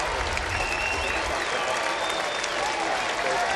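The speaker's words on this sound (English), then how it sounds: "A lot of red-shirted Cardinal fans standing and applauding that home run by Freese." Red-shirted Cardinals fans at a spring training baseball game applaud a three-run home run, steady crowd clapping and cheering throughout, heard from a distance as broadcast ambience.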